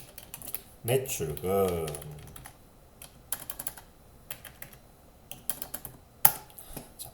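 Keys are pressed on a computer keyboard during accounting data entry, with a short spoken word near the start, then sparse, distinct clicks and taps in irregular clusters.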